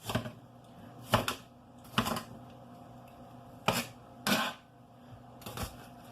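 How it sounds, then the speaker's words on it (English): A knife dicing vegetables on a cutting board, heard as a handful of separate, fairly crisp chops spaced irregularly a second or so apart, with no talking. "And just go ahead and dice those up."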